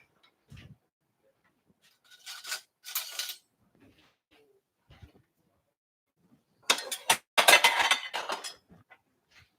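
Cutlery clinks as a spoon is picked up, a few sparse metallic rattles and then a longer cluster of clinks against a quiet background.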